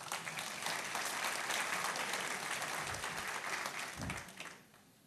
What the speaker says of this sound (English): A round of applause for Tony.